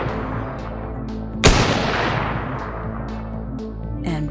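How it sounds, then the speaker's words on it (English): A single loud gunshot cracks out in Destiny 2 against a steady droning musical backdrop, its report ringing and decaying slowly, with a softer burst near the end. "When he finds a new guardian, he only fires 2 bullets."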